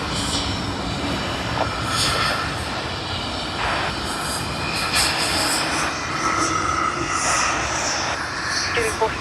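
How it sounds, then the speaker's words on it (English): A small De Havilland aircraft engine at Sydney Airport droning steadily at a distance, with faint radio-style chatter over it and broad airport noise throughout. "Glad to see this nice and small aircraft."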